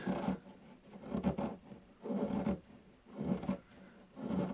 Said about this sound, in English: We'll start off just by doing a little shaving of this wood.